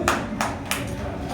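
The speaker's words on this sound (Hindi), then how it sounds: "अपने हाथों को इस्तेमाल करके तालियां बजाते हुए खुदा की प्रस्तिश करेंगे" A worship congregation claps hands in a steady rhythm, three or four distinct claps at even intervals over a low murmur of the room.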